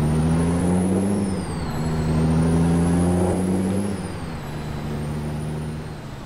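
A modified Peterbilt 389 flat top sleeper truck drives along, its engine a steady low rumble with a long hiss like an air brake, staying fairly loud and close throughout.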